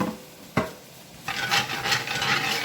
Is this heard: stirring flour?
yes